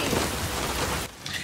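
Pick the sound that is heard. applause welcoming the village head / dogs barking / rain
rain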